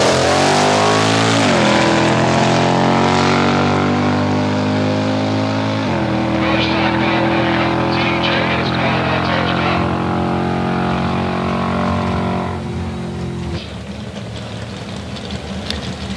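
A 1984 ET Superstakes drag racing car roars down the strip on its bye run, a loud sustained engine wail rising through several gear shifts before fading, with a commentator talking over it.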